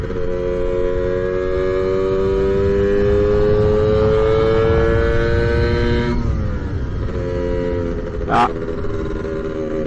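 A BGM RT240 Lambretta scooter engine pulls hard and revs up steadily, with a gear change partway through before climbing again. Loud, continuous and close, with a brief sharp noise near the end.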